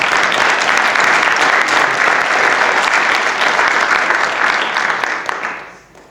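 A theater audience at the Lincoln Theater in Newcastle applauding, a dense sustained wash of many hands clapping, loud and close, then tapering off near the end.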